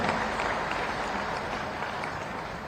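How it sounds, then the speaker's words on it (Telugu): A large outdoor crowd at a public speaking event claps loudly and steadily, a dense wash of applause that stays strong for the whole stretch with no voices standing out. "ఇలా నమ్మిన వాళ్ళు గట్టిగా చప్పట్లు కొట్టండి"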